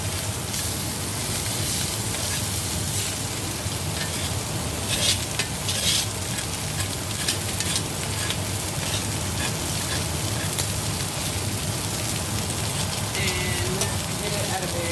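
Garlic sizzles loudly in a hot pan while being pushed and stirred, a dense continuous crackle with scraping strokes running throughout, close and busy.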